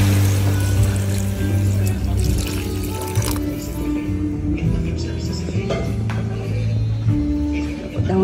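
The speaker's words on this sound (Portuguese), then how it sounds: "Então aqui eu já vou colocar uma água." Water poured into a cooking pot on a home stove, a steady loud splashing stream that runs the whole time, with a person talking over it.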